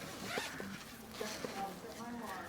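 A clothing-style zipper opened on a storage case, a short zipping rasp among handling noises, close by and under quiet background.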